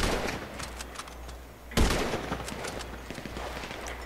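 Sniper rifle gunshots in GTA 5 Online, a few sharp cracks with one loud close shot standing out among fainter distant fire.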